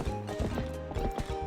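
Goat hooves clatter across the ground in Zelda: Twilight Princess HD, a quick, uneven run of near clip-clop beats over a low game music bed.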